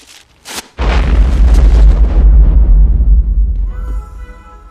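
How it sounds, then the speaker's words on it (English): Bomb explosion in an action movie scene: after a couple of short bursts comes one loud, deep boom that rolls on for several seconds before fading under a thin tonal tail. "That was really a bomb."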